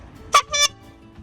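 A vintage butcher's bike horn gives two close, loud honks, a short squeeze followed by a slightly longer one, standing alone against a quiet background.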